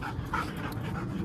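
A dog in an open field pants fast and steadily at close range, a continuous breathy rhythm with a faint whimper-like edge and no talking.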